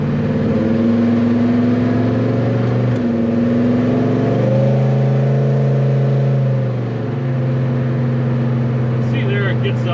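A Chevelle being readied for track events idles steadily, then accelerates with a droning engine note whose pitch shifts and climbs. The engine is close and loud, and someone talks faintly over it.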